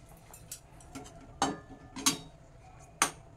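Light metallic clinks and taps as the lid is lifted off a pot of boiled taro, several sharp separate knocks spread over a few seconds in a quiet kitchen.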